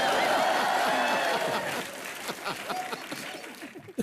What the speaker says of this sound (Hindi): एक बार सोनू सूद के लिए जोरदार तालियां